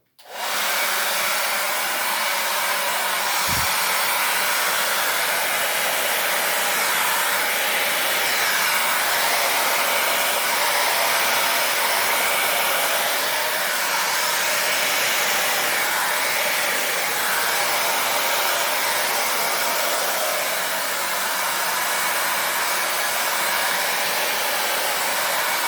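A hair dryer blows steadily across an acrylic paint pour on a ceramic tile, a loud, continuous close whoosh that starts abruptly and runs unbroken throughout with no voices.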